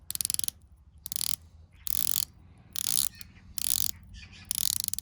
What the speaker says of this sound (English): 120 clicks, unidirectional. Assuring clicks.